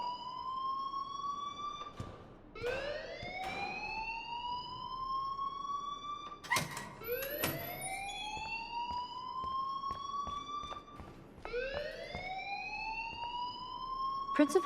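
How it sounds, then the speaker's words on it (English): A school fire alarm in the Life is Strange video game sounds in repeated rising electronic whoops, loud and steady across the whole stretch with no talk over it. "please turn off that alarm since that's your job"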